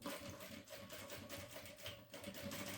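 A sewing machine stitches fabric for a lunch bag and backstitches to reinforce the seam, a steady, fast mechanical whir with an even hum, held close and unbroken the whole time.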